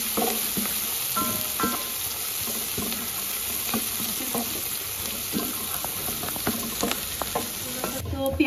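Chopped onions sautéing in hot oil for a kala chana dish give off a constant, moderately loud sizzle, with scattered spatula scrapes and taps against the pan.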